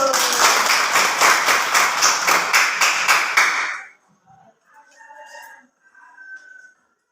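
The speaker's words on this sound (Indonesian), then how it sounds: "Ya, tepuk tangan dulu." Children in a classroom clap their hands together in a quick, even rhythm for several seconds, then stop abruptly, leaving quiet with faint voices afterward.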